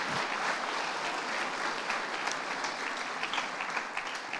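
A church congregation bursts into steady, dense applause that holds at an even level throughout, many hands clapping together.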